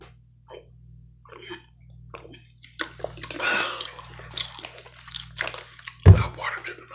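Water pours and sloshes briefly into a cup up close while a person whispers softly nearby. A sharp splashing burst comes toward the end.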